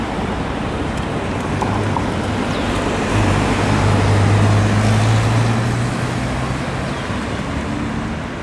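Dense street traffic in Taipei, Taiwan, with many scooters and motorcycles, a loud continuous roar of engines and road noise that swells as a heavier vehicle drones past in the middle, with no voices.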